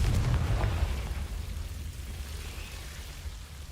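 A fiery Confringo spell blast in Hogwarts Legacy, starting with a loud explosive burst and settling into a rumbling, crackling roar that slowly fades.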